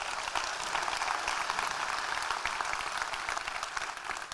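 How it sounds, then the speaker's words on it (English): An audience at a Safaricom launch event claps in sustained, even applause that holds at a steady level for several seconds, dense and unbroken, with no speech over it. "Let's give him a round of applause."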